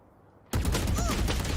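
Gunfire erupts in a Valorant pro match between LOUD and FURIA: after a quiet moment, a sudden loud burst of rapid shots rings out and continues densely to the end.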